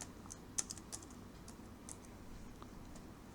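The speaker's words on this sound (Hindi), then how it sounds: "टाइप करेंगे रोल नंबर" Keys clatter softly on a computer keyboard as a roll-number entry is typed into an Excel sheet, a quick irregular run of close clicks with one sharper tap near the start, faint and alone.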